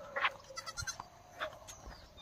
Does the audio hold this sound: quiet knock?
no